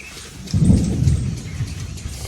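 Rain and thunder on farmland: a low, rumbling thunder roll builds after a brief quiet start and stays steady beneath a constant hiss of falling rain.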